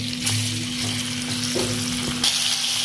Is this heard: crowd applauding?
no